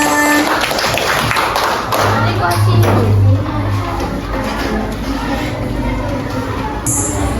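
An audience claps in a loose, uneven burst with taps and thumps, voices murmuring underneath, the clapping thinning out toward the end.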